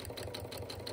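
Domestic sewing machine running steadily while stitching a seam through fabric and wadding on a storage project, a continuous close motor hum with a fast regular needle rhythm and no talk.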